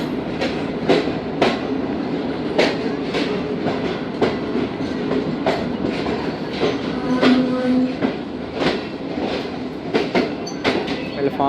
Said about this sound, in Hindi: प्लेटफार्म नंबर 2 पर आई है ट्रेन, इसी पर आती है।